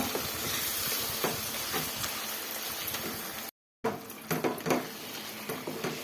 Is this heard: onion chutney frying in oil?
yes